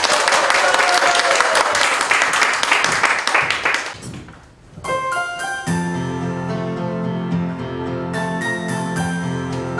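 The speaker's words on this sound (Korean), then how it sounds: "뜨거운 박수로 환영해 주시기 바랍니다" Warm applause from a church congregation welcoming a gospel praise singer, dense and steady for about four seconds, then dying away as accompanying music begins.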